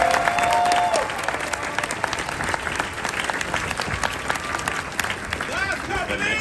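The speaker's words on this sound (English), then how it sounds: "please join me in a round of applause for the company staff of Company Chief" A crowd at a US Marine graduation ceremony in San Diego gives a round of applause for company staff, sustained clapping with some crowd noise and a brief tone at the start.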